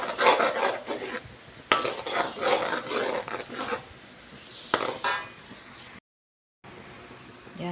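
A biko rice cake mixture is stirred in a pan with bursts of scraping, knocking and rustling as the spoon works through the sticky rice, close and uneven, broken by a brief silent gap.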